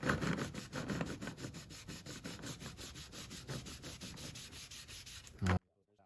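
Rag rubbing wood stain into a wooden surface in quick, rhythmic back-and-forth strokes, soft and close, stopping abruptly near the end.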